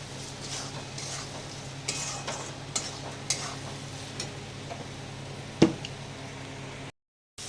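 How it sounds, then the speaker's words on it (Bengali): Spices sautéing in a pan with ginger and garlic, a faint, low sizzle with occasional soft stirring clicks and one sharper tap, ending in a brief silence. "মশলা দেওয়ার পরে আদা রসুন দিয়ে দিলাম, সব কিছু দিয়ে একবারে ভালো করে কষিয়ে নেবো"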